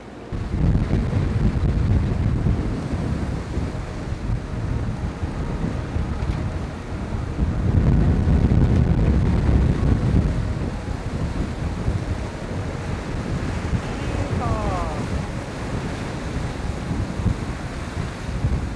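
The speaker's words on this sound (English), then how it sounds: "We had a lot of wind and there was almost 2 knots of current against us, so that kicked up some pretty steep and nasty waves" Gale-force wind roars across the microphone while steep, nasty waves rush and crash around a sailboat pushing against a strong current, a loud continuous buffeting with surging swells, no talk.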